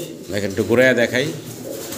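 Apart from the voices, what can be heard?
red checker Dragon pigeon cooing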